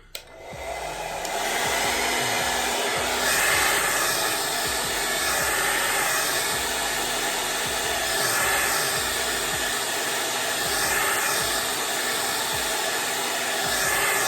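A hair blow dryer whirs loudly and steadily up close, its airflow swelling and fading rhythmically as it is moved around.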